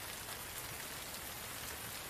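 Sudden rain pours down steadily near an outdoor smoking area, a dense, even hiss of drops hitting surfaces with no voices and no breaks.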